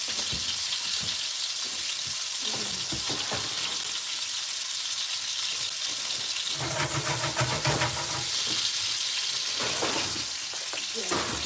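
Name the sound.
raw chicken cooking for bacon flatbread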